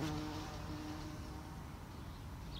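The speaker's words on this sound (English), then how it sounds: "I hate wasps." Faint insect buzzing, fitting a wasp, drones steadily through a short, quiet stretch with no speech.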